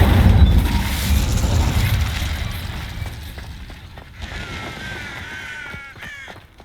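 An Incendio fire spell cast in the video game Hogwarts Legacy opens with a loud whooshing boom that fades into crackling, with a few clicks and chirps as it trails off.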